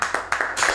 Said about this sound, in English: Clap for Arsenal's medical staff.